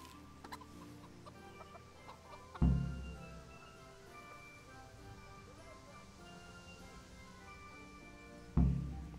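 Chickens clucking softly in the video game Kingdom Come: Deliverance, with faint intermittent clucks under game ambience and two sudden dull thumps.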